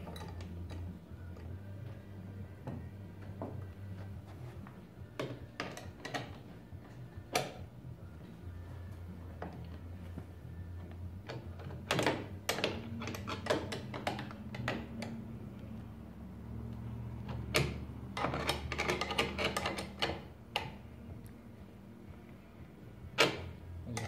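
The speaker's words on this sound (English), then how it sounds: "I've got my wrenches to get those locked down" Wrenches tighten the mount bolts on a Quickmount mounting kit, giving sharp metallic ticks and clinks in scattered bursts, close and moderately loud over a low hum, with no talk.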